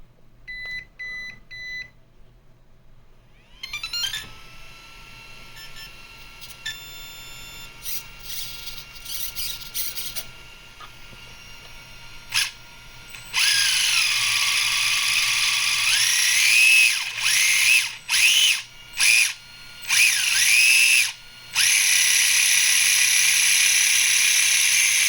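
A custom 1/10-scale RC Grom motorcycle's electric motor runs up to about half throttle, giving a thin high-pitched whine that climbs, then surges loud in repeated bursts with short cut-outs.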